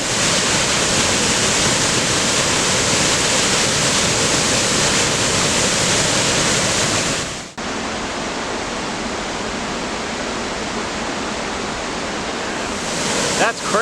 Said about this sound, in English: Another waterfall just steps from the other one.